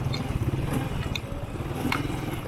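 A Royal 125 motorcycle fitted with a 150 engine, its engine running with a steady low rumbling putter, close and fairly loud throughout.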